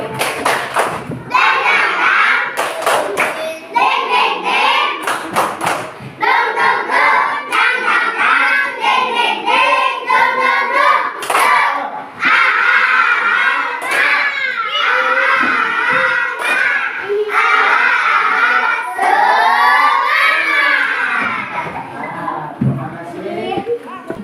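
A group of schoolchildren in a classroom chant loudly together, punctuated by sharp rhythmic bursts of hand claps in a patterned beat.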